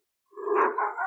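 A dog on a farm gives a close, loud, drawn-out bark that rises and wavers for about a second after brief silence.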